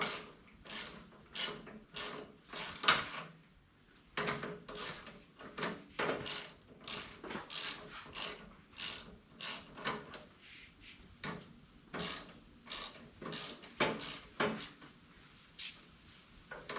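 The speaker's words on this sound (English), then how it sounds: "Hold your other wrench so it doesn't spin." A ratcheting wrench clicks in repeated bursts while working on a Colman KT196 go-kart spindle, with short pauses between runs of quiet, close mechanical ticking.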